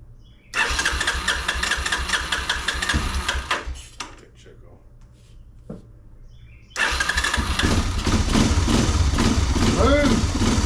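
An abandoned Honda Big Red three-wheeler cranks and fires, its engine running loud for a few seconds, cutting out with a brief lull, then restarting into a steady, rough, throbbing idle nearby.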